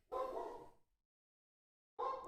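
A dog barks in two bursts, a sustained woofing volley followed by a gap of silence and then another sharp bark at close range, with no talk over it.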